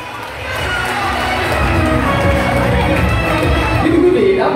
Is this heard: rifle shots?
no